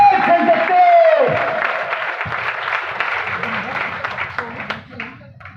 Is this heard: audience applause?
yes